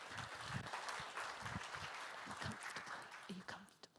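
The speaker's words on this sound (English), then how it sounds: "A round of applause for Diana, please." Audience applause fills a conference hall during a biodiversity convention meeting in Berlin, a steady dense wash of clapping throughout that tapers off toward the end, with some low voice-like sounds mixed in.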